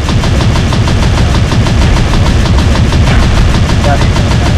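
Dense, continuous automatic gunfire in a multiplayer shooter game, loud and unbroken throughout, with rapid overlapping shots under a steady rumbling bed and a brief voice mixed in.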